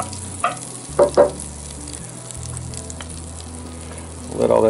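Butter melting in a pan over bottom heat to start a classic roux, a low steady sizzle running throughout with a few brief louder clinks or scrapes, close by and without talk.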